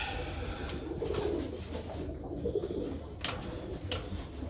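Pigeons in a loft of about thirty birds coo softly and repeatedly, with low throaty calls and faint rustling and thumps nearby.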